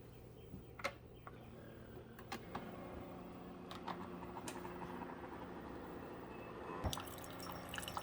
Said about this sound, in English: let's brew our coffee